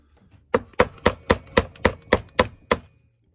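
Hammer blows on a chisel splitting a slate rod for mosaic work: nine sharp, evenly spaced strikes, close and clear, with no talk.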